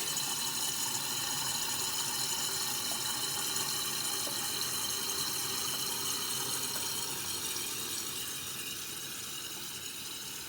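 A Schwab Fluidmaster 187.1200 concealed cistern refills, giving a steady broadband rush of running water that holds constant for the whole stretch and eases slightly toward the end, with no voices.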